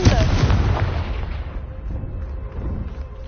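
Spell-cast explosion in a Harry Potter video game: a loud burst at the start that rumbles and decays over a few seconds into a low, quieter game ambience.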